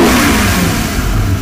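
A Heyday WT wakesurf boat's 350-horsepower engine revs hard on the water, a loud, close, continuous roar that holds strong throughout the short burst, with no voices over it.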